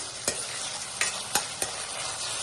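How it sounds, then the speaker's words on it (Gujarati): A hot pan of Schezwan fried rice sizzles steadily as Schezwan sauce and dark soy sauce are stirred in, with four sharp scrapes of the spoon against the pan standing out over the hiss. "આ બધાને આપણે એકદમ પરફેક્ટ રીતે મિક્સ કરી દઈશું।"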